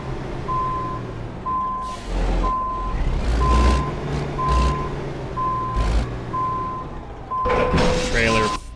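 Kenworth W900 truck in American Truck Simulator backing up, its backup alarm beeping in an even repeating rhythm with engine rumble and hissing air brakes, while someone talks over it at intervals.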